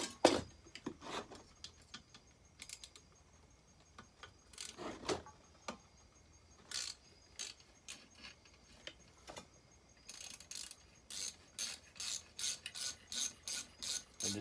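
Socket wrench ratcheting on the cylinder of a McCulloch Super Pro 80 chainsaw, a barn find, in short bursts of close, crisp clicks that quicken into a steady rapid series toward the end, with no talk.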